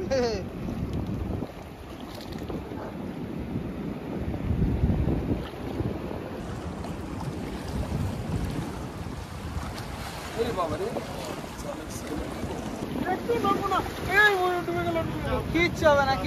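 A small boat on the flooded Damodar river in the rainy season, water sloshing and splashing against and into the hull amid wind noise, with people talking and calling out excitedly over it.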